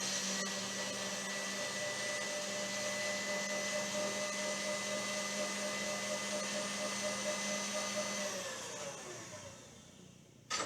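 Electric mixer whipping egg whites to stiff peaks, a loud steady whirring drone that holds for about eight seconds, then winds down and stops.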